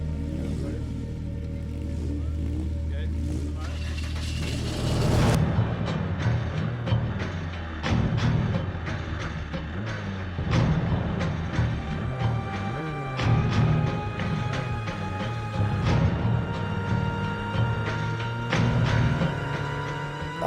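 Formula Vee single-seater race car pulling away from the start line of a race, its engine note rising loud and close as it accelerates, then dipping and surging again around a gear change, with other cars' engines sounding around it.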